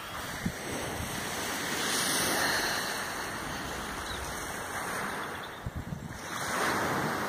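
Ocean waves wash onto the shore at Atlantic Bay, a steady broad surf roar that swells and recedes, with gusts of wind buffeting the microphone and a couple of brief knocks near the end.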